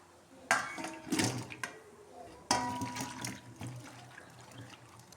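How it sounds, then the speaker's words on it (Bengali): Chopped cauliflower and potatoes are washed in water, with two bursts of splashing and sloshing plus clattering against a bowl, followed by softer trickling and rustling. "এখন ফুলকপি আলুকে আমি ভালো করে ধুয়ে নেব।"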